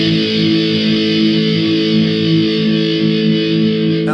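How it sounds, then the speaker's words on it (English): A single distorted electric guitar chord in a pop-punk style, with strings 3 and 4 fretted and string 5 open, rings out loud and sustained for about four seconds before cutting off. "It's just one chord. Just going to hold it and let it ring out."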